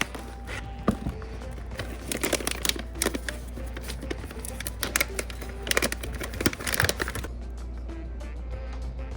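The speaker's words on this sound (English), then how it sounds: "Let's go ahead and get it cut open and dumped out." Cannabis buds from a full zip bag of greenhouse smalls being cut open and dumped out, heard as a string of close, irregular crinkles, snips and tapping rustles that soon taper into quiet.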